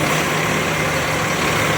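A Rosalia Indah Hino HDD 470 coach bus engine idles steadily up close, a deep continuous diesel rumble with a constant, unchanging drone throughout.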